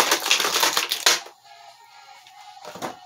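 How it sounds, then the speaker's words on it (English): Plastic packaging strap being worked loose from a WWE Elite action figure, a close burst of rapid crackling and clicking plastic that stops abruptly, followed by a quieter rustle and a brief final crinkle. "I'm trying to unstrap Bronson Reed in the safest way possible"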